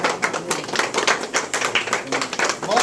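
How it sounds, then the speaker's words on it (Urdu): People at a birthday celebration clap their hands in a steady run of quick, close claps, with faint voices mixed in. "بہت تالیاں جی, کلیپنگ"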